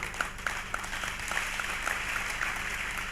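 An audience at a church sermon applauds steadily with sharp individual claps over a continuous wash, moderately loud and close, with no talking.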